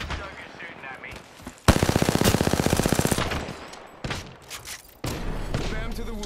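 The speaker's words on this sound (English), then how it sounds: "Third shot fired and they're hitting me." Rapid video-game gunfire rattles in a fast burst of repeated shots, followed by a few scattered thumps and another stretch of firing, with a voice talking over parts of it.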